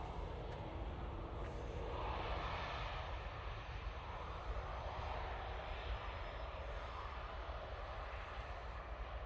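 A Finnair airliner's jet engines at Manchester Airport, a steady broad roar that holds constant throughout, moderately distant and without voices.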